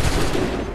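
A musket volley from the video game Assassin's Creed 3 bursts out as a dense, loud wall of gunfire that stays heavy across the whole brief moment, with no voice over it.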